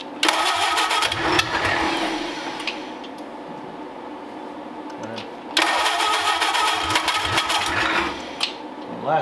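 A hot rod Ford Model A engine cranks on gasoline in two loud, buzzing bursts separated by a quieter lull, close by, with faint voices in the background.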